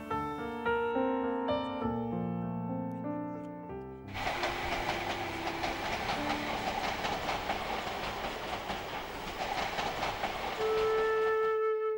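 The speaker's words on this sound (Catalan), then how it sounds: "el tren que va a Paterna i el que ve de Paterna" A train on the line between Paterna and Valencia runs along with steady rumbling rail noise and clickety-clack, following a stretch of sustained musical tones, with a horn-like tone near the end.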